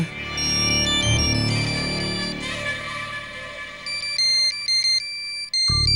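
A mobile phone ringing with an incoming call in a Telugu TV serial scene, playing a loud, steady electronic melodic ringtone with repeated bright tones over a brief musical bed, cut off abruptly near the end.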